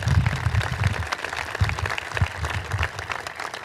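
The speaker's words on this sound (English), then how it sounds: "Let's give them a round of applause" Audience applauding architects at a science complex building dedication, a steady wash of many hands clapping at moderate distance, with low rumble underneath and no speech over it.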